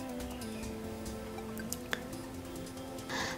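Freshly ground coconut milk drains through a strainer into a large bowl, a soft steady dribble with a few sharper drips and a brief wetter squish at the end.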